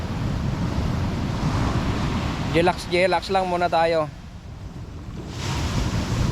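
Surf washing steadily onto a beach in Ilocos, a broad continuous roar of waves with wind noise on the microphone, a person talking briefly over it midway.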